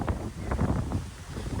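Wind buffets the microphone at a scenic viewpoint at Naviluteertha, a soft, steady low rumble with small gusts pulsing through it, quiet and alone.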